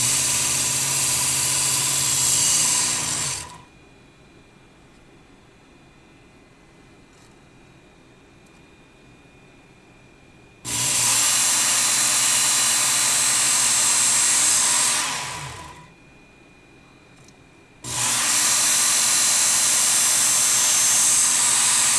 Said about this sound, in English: place the blade in the guide, power on and pull the knife.